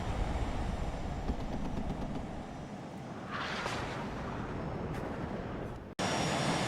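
A B-2 Spirit stealth bomber flies in during a WARNO battle, a steady broad roar of jet engines that holds throughout and swells briefly midway before cutting off abruptly near the end.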